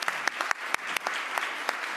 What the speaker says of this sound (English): Let's have a round of applause for our guests.